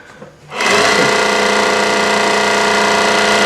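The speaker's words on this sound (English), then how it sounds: "Continue to wind this bobbin." A Juki DNU-1542 industrial walking-foot sewing machine winds a bobbin: after a little handling noise, the motor starts and holds a loud, steady, close whirring hum without a break.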